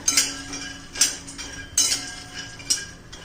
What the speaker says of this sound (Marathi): बघा ह्याच कढईमध्ये मी हिरवी मिरची शेंगदाणे आलं आणि लसूण हे सगळं भाजून घेऊया